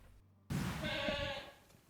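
A goat on a farm in the Stryi area gives one clear, fairly close bleat lasting about a second after a quiet moment, with faint farmyard background and no talking.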